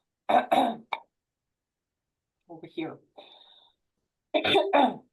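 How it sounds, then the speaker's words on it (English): A few harsh, close coughs in quick bursts, then a brief spoken phrase, followed by another pair of sharp coughs. "There's some cold walking around, so have some cough"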